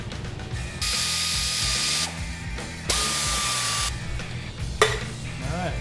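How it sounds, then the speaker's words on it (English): A wrench ratchets while unbolting the radiator on a Ford F100, steady rapid clicking and whirring bursts with brief pauses, close up over a workshop background. "What we're going to do is unbolt the radiator and see if we can move it closer to the fan just enough to get a wrench on the two bolts."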